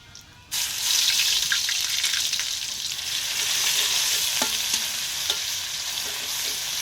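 Garlic paste hits a hot pan of greens fried with dried chilies, setting off a sudden loud, hissing sizzle that carries on steadily with a few light clinks of stirring and no talk.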